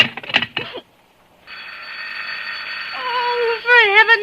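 A telephone bell rings in a long continuous trill after a brief burst of sound, then a voice speaks over the tail of the ring.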